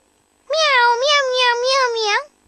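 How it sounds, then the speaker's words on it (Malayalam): A cartoon kitten meows over the phone in one long drawn-out, wavering cry that rises and falls, close and clear against silence. "പൂച്ചക്കുട്ടിയുടെ വോയിസ് കേൾക്കാൻ വേണ്ടിയാ"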